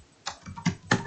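Keys on a computer keyboard are typed in a short burst, about four distinct close clicks in quick uneven rhythm, alone with no speech.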